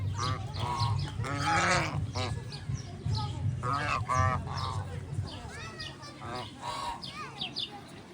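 Loud, brassy, trumpet-like honking calls from a trumpeter swan repeat in quick, overlapping bursts over a low steady hum, some notes rising and bending.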